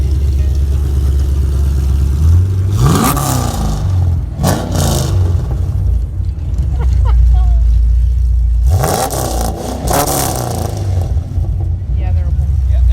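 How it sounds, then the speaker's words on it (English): Chevy car engine at the Chevy Nationals car show in Carlisle, a deep low idle burble with a couple of brief revs, heard close by under people talking. "get a little closer to it so we can hear it burble"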